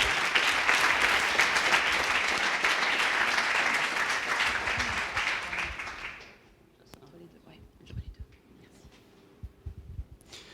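Audience applause at a coding bootcamp demo day in Montréal as a presenting team is introduced, loud dense clapping for about six seconds that stops abruptly, followed by quiet room noise and faint sounds.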